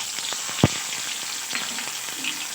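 Cumin, green chili paste and ginger paste frying in hot oil for a mixed vegetable dish, a close, soft sizzle with one sharp pop early on and faint stirring scrapes.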